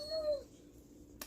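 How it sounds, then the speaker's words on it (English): A dog gives one brief high whimper in the background, faint and short, followed by a quiet room. "That is my dog in the background."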